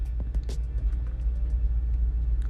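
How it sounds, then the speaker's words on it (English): A car approaches on a snowy winter road in Burnaby, B.C., a steady low engine and tire rumble that holds close and fairly loud throughout, with a few faint clicks above it. "there's a car approaching me and there's nowhere to go"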